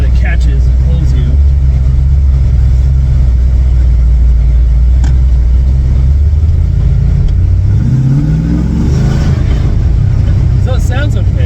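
A Land Rover Defender 110 with an LS3 V8 swap that smokes drives along, its engine humming steadily and loudly up close before it revs up near the end.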